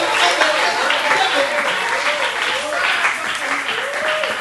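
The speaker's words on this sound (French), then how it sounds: "acclame encore pour Jésus-Christ" A church congregation claps and cheers for Jesus Christ, with loud, sustained massed applause and voices rising over it throughout.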